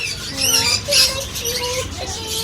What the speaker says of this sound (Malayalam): അങ്ങനെ ഒരു തത്തയാണെന്ന് തോന്നുന്നു.